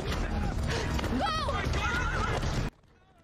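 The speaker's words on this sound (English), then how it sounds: "Joel, get on the horse." A horse in a TV drama whinnies loudly several times over a busy, noisy background with hoofbeats, then everything cuts to near silence.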